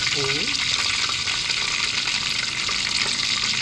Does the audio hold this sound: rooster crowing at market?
no